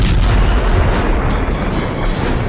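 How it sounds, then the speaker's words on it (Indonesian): A deep, bomb-like explosion rumbles as a dense, sustained roar that fills the whole stretch, with no voices over it. "ada suara ledakan kayak bom Hiroshima"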